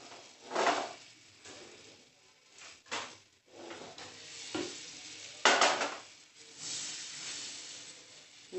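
Butter melts in a pan for herb rice while a spoon stirs and knocks against the metal in uneven bursts, the clatter loud at times over a faint, quiet sizzle.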